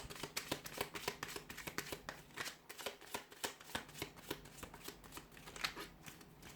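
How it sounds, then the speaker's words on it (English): Tarot cards shuffled by hand in a quick, steady run of crisp riffling flutters and soft slaps, close and fairly quiet, with no talking. "Let's give the cards a shuffle"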